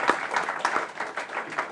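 An audience claps at an address on insolvency law: a modest scatter of hand claps from a small group, fairly close and uneven, without talk over it.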